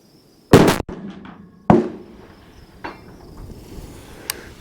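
Rifle shots from a Sterling Arms R18 chambered in 6.5 Grendel, fired outdoors: two sharp, loud cracks about a second apart, each trailing into a short echo, then fainter distant pops.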